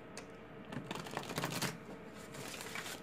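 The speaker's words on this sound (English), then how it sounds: "Give it one more good shuffle." Rapid papery riffling of tarot cards being shuffled, a few quick bursts of flicking and snapping, fairly close and without any voices.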